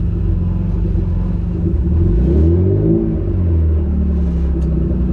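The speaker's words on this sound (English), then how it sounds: "We're gonna do some light throttle pulls." Car engine revving through light throttle pulls after warming to temperature, a loud steady rumble that climbs in pitch, peaks and falls back, close and continuous, with no talk.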